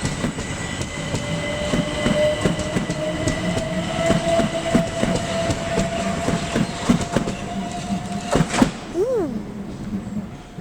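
A train runs through Sevenoaks station on a line served by Ramsgate via Dover trains, with a steady rumble and a rising tone that holds throughout, rhythmic rail clicks, and a brief squeal near the end.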